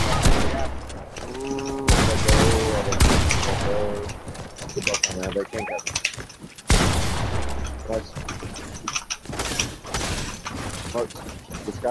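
Rapid bursts of Fortnite gunfire crack and rattle in clusters, with mechanical weapon sounds in between and game effects layered throughout.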